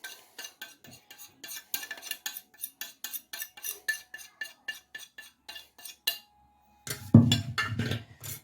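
Spices get mixed into a kebab mixture in a bowl with quick, rhythmic spoon clinks and scrapes against the dish. A short pause follows, then a louder, rougher burst of stirring near the end, all close up and with no speech.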